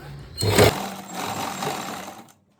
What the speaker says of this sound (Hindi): अब इस पे सिलाई लगा दो